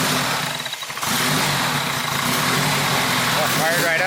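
A first-generation turbo Mitsubishi Eclipse GSX engine fires up and runs close and loud, its idle uneven from a misfire, with voices faintly mixed in.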